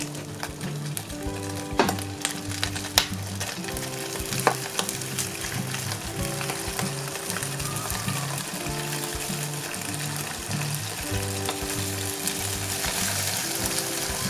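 Two packs of pasta fry and sizzle loudly in a kazan for navy-style macaroni, a steady crackling hiss with occasional clanks and scrapes of stirring, and no talking.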